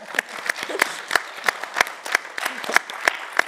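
A small panel-discussion audience claps in a sparse, fairly regular rhythm, distinct individual claps sounding close with gaps between them rather than a full ovation.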